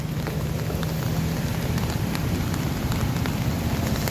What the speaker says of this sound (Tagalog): habang nag-iikot tayo ay inabutan tayo ng ulan